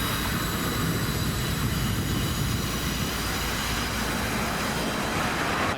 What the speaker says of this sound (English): We got 2 trains going over the bridge at one time.